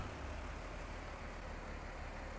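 A farm vehicle engine idles in Farming Simulator 19, a steady, even rumble that holds at constant loudness throughout with no talking.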